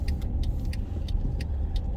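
Cars pass along a road lined with redwoods in winter, a steady low rumble of tyres and engines with a series of short, sharp ticking clicks over it.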